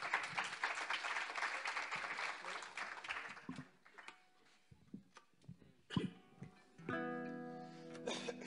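Applause from a concert audience, loud dense clapping at first that thins out and fades into scattered claps, followed by quieter sounds and a brief voice.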